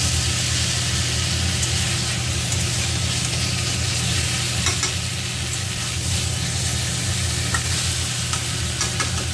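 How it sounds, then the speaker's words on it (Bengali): Fried mrigal fish sizzles loudly in a pan of oil as it is stirred and turned. A thick, unbroken hiss sits over a low steady hum and continues close and constant without any speech. "মাছটা দেওয়ার পরে আমি সামান্য একটু কষিয়ে নেব"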